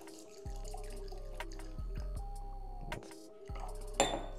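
Whisky from an ex-red wine cask poured into a glass, heard as several short glugging bursts of liquid with light glass clinks, close and fairly quiet.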